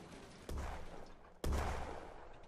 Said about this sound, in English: Sorry for the loud explosions, but it's a really great game